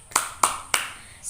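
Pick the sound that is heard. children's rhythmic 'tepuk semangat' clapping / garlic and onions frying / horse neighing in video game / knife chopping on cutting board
children's rhythmic 'tepuk semangat' clapping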